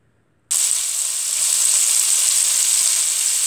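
Small meatballs drop into a hot pan and set off a sudden loud sizzle that holds steady and bright, a continuous crackling hiss of frying after a moment of near silence.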